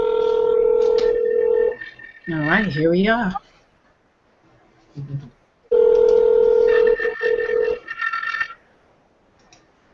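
Telephone call in progress: a sustained steady ringback tone cuts on and off in long bursts, broken by a warbling electronic tone pattern and a spoken line, close and loud.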